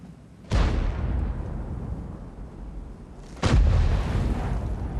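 Two heavy tank cannon shots in World of Tanks on the Mauschen Mines map, each a loud sudden boom followed by a long rumbling tail, spaced about three seconds apart.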